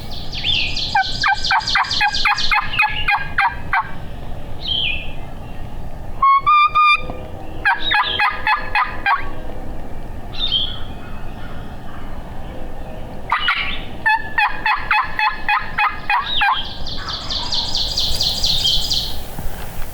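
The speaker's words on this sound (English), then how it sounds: "We got two birds gobbled over there." Wild turkey gobblers on public land gobble in repeated loud rolling bursts, several calls overlapping from more than one bird, with other bird chirps between them.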